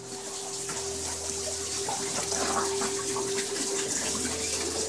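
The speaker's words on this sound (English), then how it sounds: "in that sump tank is the water pump, which pumps the water back to the fish tank" Water pump in the sump tank of a backyard aquaponics system pushing water through a 1-inch pipe back to the fish tank, heard as a steady close rush of flowing water over a constant low motor hum, with no talking.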